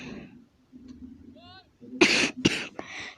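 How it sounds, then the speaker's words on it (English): A person coughs in three harsh, close bursts in quick succession, after some quieter voiced sounds and a short whistle-like tone. "This video should be called Cough, Cough, Cough, because that's all I'm doing."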